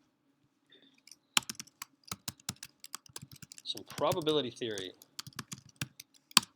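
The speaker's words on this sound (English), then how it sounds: "I'm going to be typing it here." Keystrokes clatter on a computer keyboard in a quiet room, a steady run of close, crisp clicks that carries on while a person speaks briefly over them.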